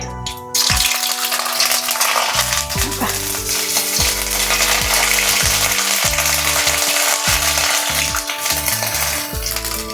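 Bay leaf and ginger frying in hot oil, loud continuous sizzle and crackle that begins abruptly as they drop in, with occasional stirring clinks against the pan.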